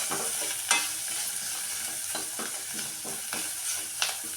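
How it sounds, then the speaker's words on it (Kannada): Spinach with turmeric powder sizzles steadily in a hot pan, with repeated scraping stirs of a spoon against the pan at irregular intervals; close and fairly loud, with no talking. "ಇವಾಗ ನಾನು ಈ ಥರ ಫ್ರೈ ಮಾಡ್ತಾಯಿದ್ದೀನಿ"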